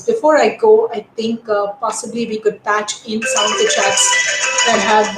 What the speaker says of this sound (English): I'm sorry for that phone actually ringing in.